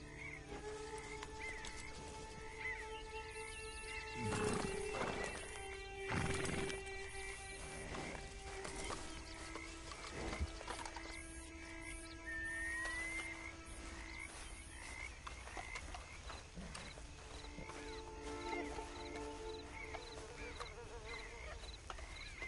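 Horse ridden in Red Dead Redemption 2, with steady hoof clip-clop and an occasional whinny layered over a busy ambient game soundscape of croaking frogs and wildlife, moderately loud throughout.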